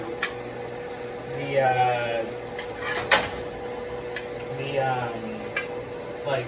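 Food searing in a hot pan while making ramen, a soft steady sizzle punctuated by sharp clinks and scrapes of utensils, with someone talking throughout.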